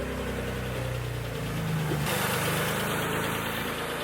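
A Mitsubishi GTO engine idles rough and uneven with a knocking, lumpy rhythm, loud and close for several seconds with no talking.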